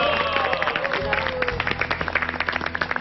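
Studio audience applause on a Korean variety show, a burst of dense clapping that grows into steady rhythmic hand claps over a noisy room, with a voice briefly at the start.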